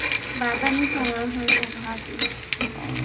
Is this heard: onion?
yes